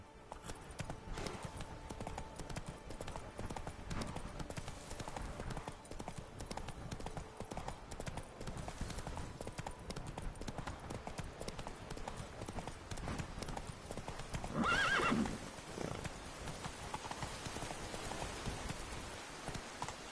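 Galloping horse hooves pound rapidly and continuously in The Witcher 3, with a brief louder burst midway that may be a neigh, all against a busy game soundscape and no clear talk.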